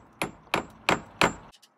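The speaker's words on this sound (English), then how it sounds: "I got out my hammer and I got these little nails that have a little plastic hook on them that will go into the concrete" Four evenly spaced sharp hammer blows drive small nails with plastic hooks into concrete outdoors on a patio, each strike a crisp ringing knock, followed by two faint light taps, with no talking.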